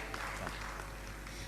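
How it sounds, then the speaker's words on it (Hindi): Applause welcoming a guest at a Jain religious gathering, a brief, steady patter of many hands clapping under a constant low hum, with no voices over it. "जोरदार तालियों से उनका स्वागत।"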